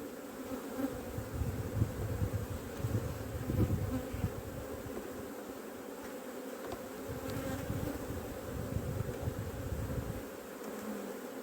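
Dense honeybee buzzing from a hive frame during swarm preparation on the coast, a steady close drone of many bees that swells and eases without pause.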